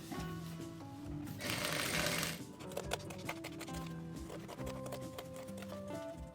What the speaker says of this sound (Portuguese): Vou passar uma costura por cima do risco.